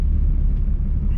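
Steady low road rumble from Venom Power Terra Hunter X/T 35x13.50x22 mud-terrain tires with about 15,000 miles on them, heard from inside a vehicle cruising on an expressway, continuous and even with no talking.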